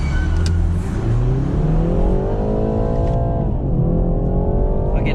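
A BMW G20 330i accelerates hard in manual mode, its engine note climbing steadily and loud from inside the cabin, with a brief dip as revs drop before it pulls again.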